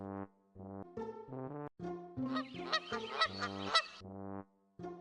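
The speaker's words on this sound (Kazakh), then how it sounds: "Қаз." A goose honks repeatedly, loud and close, with nasal calls in quick bursts and a short pause between groups.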